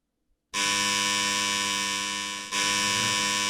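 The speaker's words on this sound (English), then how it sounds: "The buzzer sounds 3 times, indicating we have a visitor." A loud, harsh electronic door buzzer in a video game drones steadily, cuts out briefly, then sounds again, a sustained, shrill tone with strong overtones.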